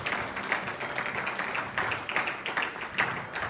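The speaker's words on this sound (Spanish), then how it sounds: "Dale un aplauso a Jesús" A church congregation claps for Jesus during a worship service, a fairly soft, somewhat rhythmic patter of many hands heard from a distance.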